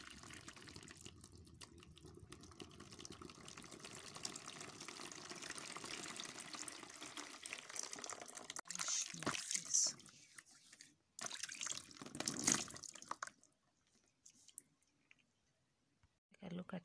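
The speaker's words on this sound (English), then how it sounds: "so I'll pour it in a basin" Hot water from a kettle pours and splashes into a basin with clicking and trickling, under a voice talking, then fades to scattered drips and near silence.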